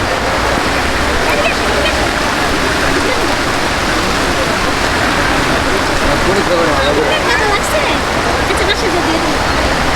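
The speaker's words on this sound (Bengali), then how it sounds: "তুমি দেখো বৃষ্টি আসছে" Rain falls steadily on a fish market in Dhaka during the monsoon, a loud, dense, continuous wash of water throughout, with people talking underneath.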